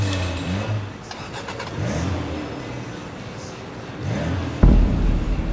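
Car engine in the video game Sleeping Dogs cranks and revs in several rising sweeps, ending in a sudden loud roar near the end, with no talk.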